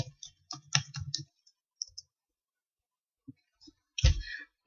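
Computer keyboard keys clatter in quick bursts of close typing clicks, then pause before a few scattered taps and a final loud cluster, with brief speech mixed in during a Sims 3 gaming session.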